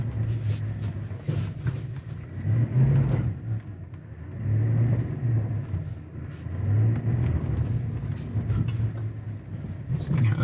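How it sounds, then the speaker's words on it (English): A 2022 Chevrolet Silverado ZR2 grinds off road with its wheels spinning, the engine surging and easing in repeated deep, rumbling revs, loud and close throughout. "What we want to see here is tons of wheel spin with no braking or minimal braking on the spinning wheels."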